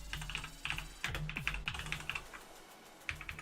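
Someone types on a computer keyboard at a Raspberry Pi running Ubuntu desktop, a quick, irregular run of close key clicks with short pauses, no talking.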